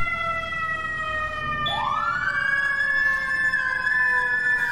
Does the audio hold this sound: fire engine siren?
yes